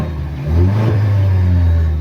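Toyota Tacoma TRD Pro engine, heard from inside the truck, idling with a low steady drone that swells as the engine revs up and then holds.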